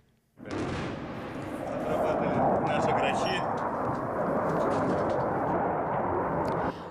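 A Su-25 attack jet fires missiles over Bakhmut in eastern Ukraine, a sudden loud, sustained roaring blast that holds steady for several seconds before easing off.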